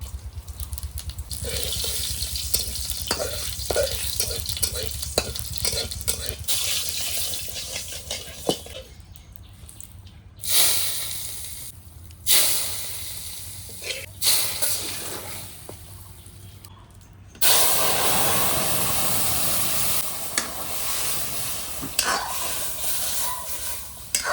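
Dry red chillies and cumin seeds crackle and sizzle in hot oil for a tempering, a steady broadband fry broken by sharp bursts and scraping stirs, close and fairly loud with no talking.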